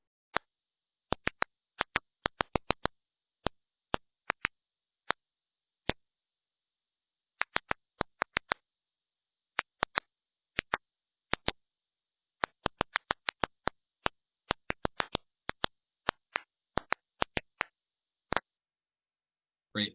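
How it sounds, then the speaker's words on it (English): Recorded clicks from a water-stressed tomato plant, sharp, dry ticks like knuckles cracking, come in irregular bursts and scattered singles over silence, some packed tightly together and others spaced seconds apart. "So it's like a clicking sound or even like knuckle cracking sound."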